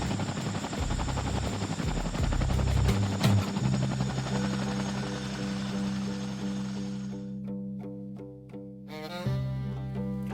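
Chinook helicopter in flight, a loud continuous rotor thrum with heavy rhythmic chopping that later settles into a steadier tonal drone.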